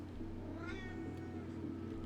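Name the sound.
cat meowing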